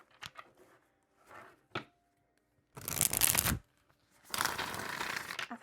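A deck of tarot cards riffled and shuffled in two loud bursts, preceded by softer handling taps and rustles of the stiff, long-used cards, close by with no talking.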